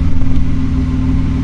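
A Porsche 992 Carrera with an iPE exhaust, OPF delete and stage 2 tune, valves open in sport mode, gives a loud, close, deep engine rumble with a brief rev pulse at the start, then holds steady.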